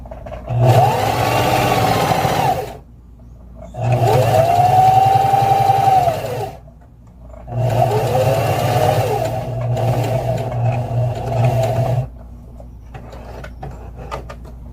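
A sewing machine stitches a double zip pouch in three steady whirring runs of a few seconds each, with a mechanical hum and short quiet pauses between them as the fabric is turned.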